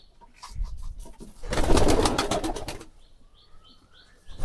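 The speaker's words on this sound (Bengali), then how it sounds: "দেখেন সব কবুতরে খাবার খেতে এসেছে" Pigeons flock in to feed, a loud burst of wing flapping rising in the middle and fading, with a few soft coos and chirps before and after.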